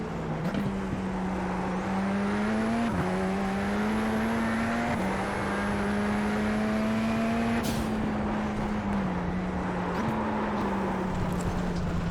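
A Radical race car in iRacing drones steadily at close range, its engine pitch dipping and climbing as it slides for grip, with a brief whoosh near the middle as another car flies past.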